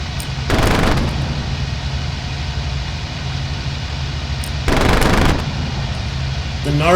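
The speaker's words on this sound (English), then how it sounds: "nose gun, the 20mm cannon on this, has a really violent recoil impulse" A 20mm nose cannon firing in a flight sim: two rapid, harsh bursts of automatic fire, one at the start and one near the five-second mark, loud and close over a constant engine drone.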